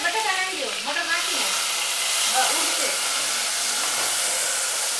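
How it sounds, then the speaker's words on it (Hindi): Peas dropped into hot oil in a home kitchen fry with a steady, loud, broadband sizzle and hiss that holds throughout, with a voice talking over it at first. "अभी तेल गर्म हो गया लग रहा है, मास्टर शेफ इतना तो गुना सही रहे। अभी सबसे पहले इसमें डालेंगे मटर"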